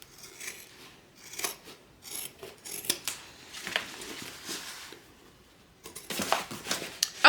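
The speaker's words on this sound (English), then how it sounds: "now we're going to trim this down to 1/8 of an inch seam allowance" Scissors trim the fabric seam allowance on a sewn mini crossbody bag, with crisp snips close by, in short irregular bursts separated by quiet pauses.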